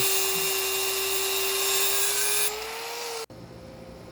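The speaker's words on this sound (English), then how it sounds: "Now I'm cutting the hangers so that I can go ahead and install them." A steady, loud high-pitched whine from a power tool cutting exhaust hangers on a boosted K-series car's exhaust, running evenly for about three seconds before cutting off abruptly, with a brief quieter hum after.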